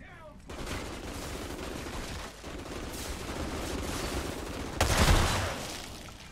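Rapid gunfire from weapons in the Outriders video game, a dense sustained barrage with a louder burst of shots near the end, mixed with game effects and a voice.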